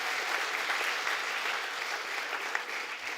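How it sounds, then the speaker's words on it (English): Graduates clap for themselves at a college graduation ceremony, a steady, fairly soft wash of many hands at a distance, without a break for its whole short length. "Give yourselves a round of applause."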